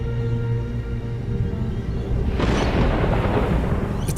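Thunder rumbles as storm clouds build over southeast Queensland in November, a low continuous roll that swells into a louder broad crackling boom in the second half, heard alone without talk.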